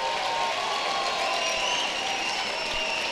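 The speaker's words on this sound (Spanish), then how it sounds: "Un fuerte y sonoro aplauso para más de nuestros 150 voluntarios" At the closing ceremony of a FIRST LEGO League tournament, an audience gives the event's volunteers dense, continuous applause from many hands, steady and loud from start to finish.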